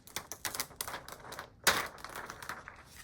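Siser Vernice vinyl carrier sheet peeled off a shirt, a run of crackly tearing and crinkling with one sharper loud rip midway, close and with no talking.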